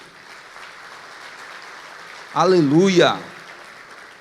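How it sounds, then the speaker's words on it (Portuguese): Congregation clapping fills a church service as a steady, fairly soft patter, then a single voice rises over it with a sung shout for a moment before the clapping continues beneath. "Dê um aplauso a Ele."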